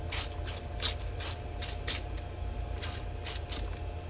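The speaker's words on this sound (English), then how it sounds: "Now I'm going to spritz it with isopropyl." Isopropyl alcohol spritzed from a spray bottle onto a silicone resin mold for casting dominoes: a run of about nine short, crisp hissing bursts at a steady rhythm, heard close over a low background hum.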